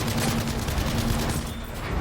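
Rapid bursts of gunfire crackle in Battlefield V amid trench combat, a dense continuous fusillade of shots at moderate loudness with a brief dip near the end.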